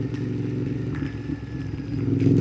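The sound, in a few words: motorcycle riding downhill slowly in low gear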